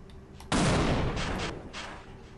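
A mounted gun in Half-Life Uplink fires a sudden loud burst that rings out, followed by a couple of further rattling bursts that fade, with no talk.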